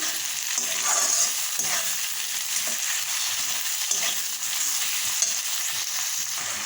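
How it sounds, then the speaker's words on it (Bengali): Ginger-garlic paste with chilli and turmeric powder sizzles steadily in hot oil in a pan, with occasional stirring scrapes over the even, close frying hiss. "তারপর দিয়ে দিলাম আদা রসুনের পেস্ট, লঙ্কার গুঁড়ো আর হলুদ গুঁড়ো দিয়ে দিলাম।"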